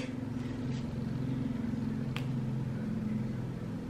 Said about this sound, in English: Oh no, the garbage truck is coming.